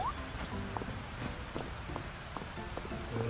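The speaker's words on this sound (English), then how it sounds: "Nature can be inconvenient, but it sure is nice when rain waters my garden in one go." Rain falls steadily in the farming video game Fields of Mistria, a soft continuous patter spread evenly throughout, with faint short game tones and chimes layered on top.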